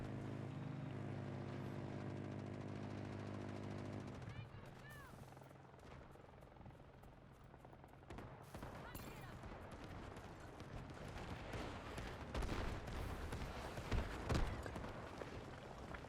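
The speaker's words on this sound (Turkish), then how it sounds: "Helikopter mi sıktı bana ya?" Helicopter in the video game Delta Force: Hawk Ops, a steady rotor drone giving way to chaotic bursts of gunfire and explosions, loud and continuous throughout the battle.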